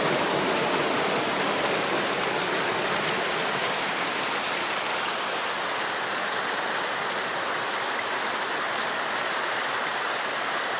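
Water running away through cracks at a tourist complex, a dense continuous rushing wash like a stream or small falls, loud and unbroken throughout with no voices.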